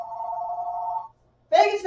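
A telephone rings with a single steady electronic tone for about a second, close and clear. After a brief silence, someone starts talking.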